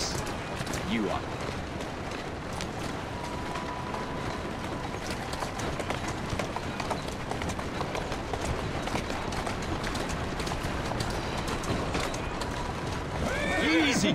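Horse neighing and whinnying in the Assassin's Creed Syndicate video game, with running hoofbeats and clip-clop under a steady ambient bed and speech, and a louder whinny near the end.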